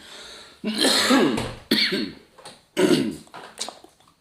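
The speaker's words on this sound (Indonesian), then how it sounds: "Masih batuk-batuk." Several harsh, raspy coughs come in close bursts, loud and near, with short pauses between them.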